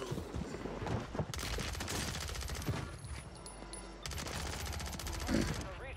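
Rapid SMG fire in Warzone 3 rattles in long continuous bursts, loud and close, with a brief pause in the middle and game music and effects beneath, while a player's voice talks over it.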